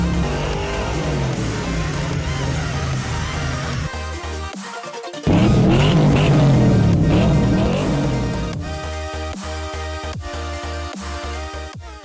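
A car engine revs hard and roars continuously, dropping briefly before surging again, loud and close with a strained mechanical whine.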